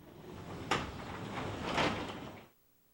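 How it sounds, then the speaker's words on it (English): A Wayne Dalton garage door with extension springs is raised and lowered by hand. It gives a soft rolling rumble for about two seconds, with a sharper knock near the start and a swell toward the end before stopping. "manually raise and lower the door to verify that the lock arm does not interfere with the door"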